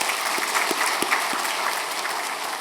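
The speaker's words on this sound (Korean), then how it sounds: "하나님의 구원을 드러내는 교육자 될 수 있도록 큰 박수로 격려해 주시기 바랍니다." A church congregation breaks into applause, a dense steady patter of many hands clapping with a few sharper claps standing out, filling the room without talk.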